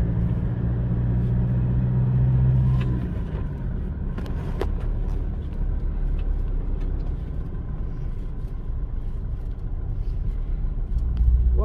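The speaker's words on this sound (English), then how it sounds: "typical traffic in Peru, and you see cars are passing to the right, including commercial vehicles." Street traffic in Lima, Peru, with cars and commercial vehicles passing: a steady low rumble of engines and road noise throughout, with a heavier vehicle droning early on and no speech.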